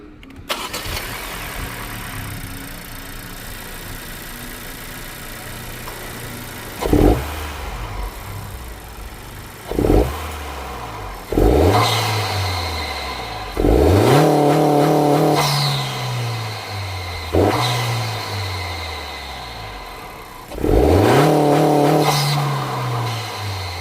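An 11th-generation Honda Civic Si engine with a 27WON aftermarket intake starts and idles, then gets several sharp revs that flare up and fall back, close and loud, with the intake roar clear.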